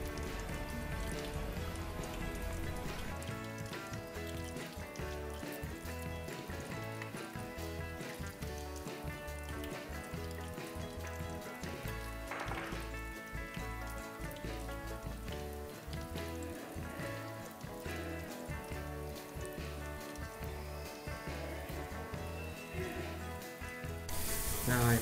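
Silken tofu deep-frying in hot oil for crispy Japanese agedashi tofu, a steady dense sizzle and crackle running continuously and loudly throughout.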